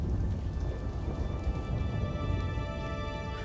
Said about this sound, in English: I marveled at the droplets of rain racing down this chasm.